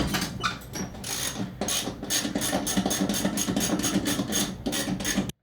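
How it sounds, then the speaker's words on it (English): Wrench working the 15mm nut on the belt guard bolt of a John Deere E100 lawn tractor deck, a close, steady run of ratcheting clicks and metal taps with brief pauses, no talking. "all we have to do is loosen the nut on that bolt right there."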